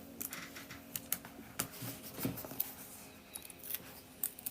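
Clear tape being pulled, torn and pressed down to fix a cut-out paper sheet into a book, a run of small crackling snaps and taps at close range with no talking.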